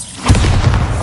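A Bombarda spell explosion in the Hogwarts Legacy video game: a deep, booming blast lands near the start and rumbles on for about a second, loud and close with no talk over it.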